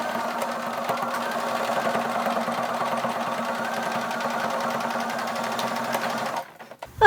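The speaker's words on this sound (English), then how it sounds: "I'm going to be stitching on top of that with the machine" Sewing machine running steadily as it stitches over belt loops on an upcycled below-the-knee denim jean skirt, a continuous close motor whir for about six seconds before stopping abruptly.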